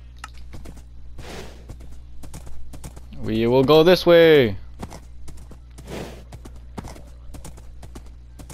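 Video game horse hooves clip-clop in a steady walking rhythm in Minecraft, a horse neighs loudly midway, and someone speaks briefly over the hoofbeats.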